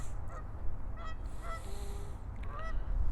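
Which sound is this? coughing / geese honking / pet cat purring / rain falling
geese honking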